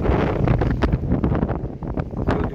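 Strong wind buffets the microphone at a lake where people have come to fish for carp, producing loud, continuous rumbling gusts and flutter with no speech.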